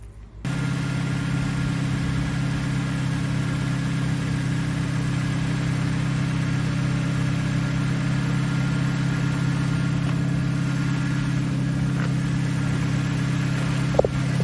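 A Suzuki Vitara's engine idles steadily throughout during A/C repair work, a constant low hum that holds even and close with no talk over it.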